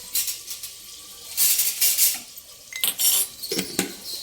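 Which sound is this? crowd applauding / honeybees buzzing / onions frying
onions frying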